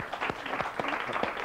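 A studio audience claps for a guest on a Polish television talk show, a dense, fairly distant patter of many hands with no voices over it.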